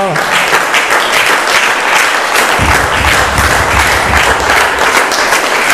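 A church congregation applauds their God at an evening worship service, loud and sustained clapping that fills the room, dense and close from start to finish.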